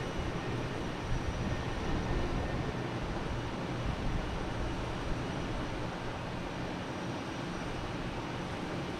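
A JetBlue airliner in Peacock livery taxis at Boston Logan Airport, its engines producing a steady, broad rumbling roar that holds at an even level throughout, heard from a moderate distance with no talk.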